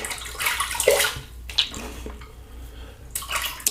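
Water runs steadily from a tap into a sink while a face is rinsed after a shave, a close, continuous splashing hiss with brief shifts as hands move through the stream.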